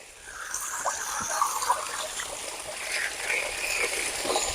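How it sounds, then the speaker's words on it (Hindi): Water gushes steadily from a solar-powered irrigation pump onto a farm field, a continuous rushing trickle heard up close outdoors with no talk over it. "यहाँ पे पानी पूरा फ्लो के साथ बह रहा है"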